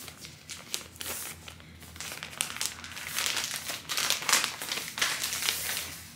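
Crinkly plastic packaging around a shiny spandex catsuit is handled and unwrapped up close, giving continuous crackling and rustling bursts that swell and fade unevenly.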